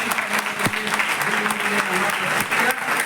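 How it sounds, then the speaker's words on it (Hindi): Loud, dense applause from an audience at a college Constitution Day event, sustained for a few seconds with a voice faintly audible underneath. "एक बार जोरदार ताली"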